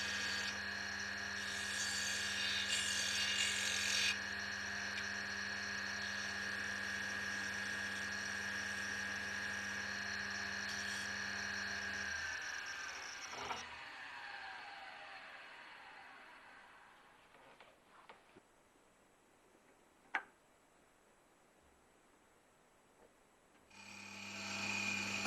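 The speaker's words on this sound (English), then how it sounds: "You will note that the face is being trued up with a 1/4 inch round skew." Wood lathe spinning as a 1/4 inch round skew trues the face of a boxwood and cocobolo blank, a steady whirring hum with a high tonal whine for about twelve seconds, then winding down to near silence with a sharp click.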